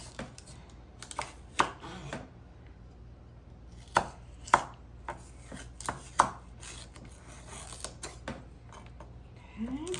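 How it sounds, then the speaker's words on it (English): A knife chops a washed celery stick on a cutting board in a home kitchen. The sharp chops come in irregular clusters with pauses between them and sound close and distinct over a faint background hum, with no talking. "so I'm going to cut up a celery stick"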